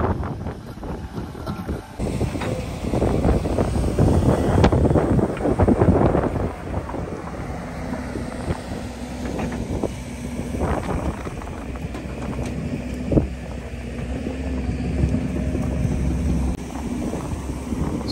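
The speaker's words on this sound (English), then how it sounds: "I don't know if you can hear me because of the wind," Strong outdoor wind buffets the microphone at a building site, heavy low rumbling gusts that surge loudest in the opening seconds and then keep roaring unevenly, with faint scraping and knocks underneath.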